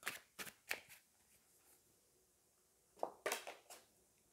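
Tarot cards are shuffled and drawn in quick riffling bursts close by. Two clusters of papery flutters are separated by a near-silent pause.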